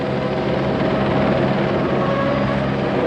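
Helicopter carrying Nigel Mansell near Circuit Gilles Villeneuve on the St. Lawrence River, its rotor producing a loud, steady drone that fills the whole stretch without pause.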